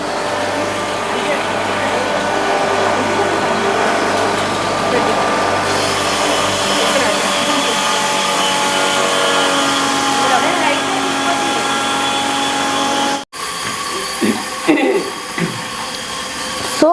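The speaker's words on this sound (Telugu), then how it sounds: "ఇది వచ్చేసరికి మనకి వీట్ మిషన్ అనమాట" A wheat flour grinding machine at a ready-to-eat chapathi food shop runs with a loud, steady whirring drone throughout, cutting out briefly near the end before starting up again.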